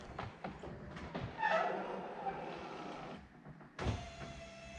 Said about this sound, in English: So that bit lifts up, the roof folds down.